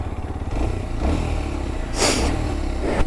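2023 Kawasaki KLX supermoto motorcycle engine running steadily at close range, with a low mechanical drone and a few brief clattery bursts and rev swells throughout.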